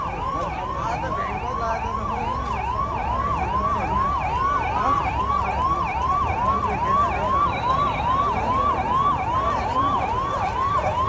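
Fire engine sirens wail continuously at a big fire near Pahelo Pul, Naya Basti in Kathmandu, a loud, steady rising-and-falling siren cycle repeating about twice per second over traffic rumble, with no speech.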